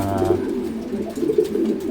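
Pigeons coo in a loft, a close, steady run of low throaty calls with a brief higher tone at the start and no talk over them.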